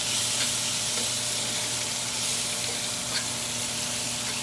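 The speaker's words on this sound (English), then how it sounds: "So the asparagus is cooking up pretty good." Asparagus sizzles and fries steadily in a hot pan during a salmon dinner, a constant close hiss with faint stirring and no talking.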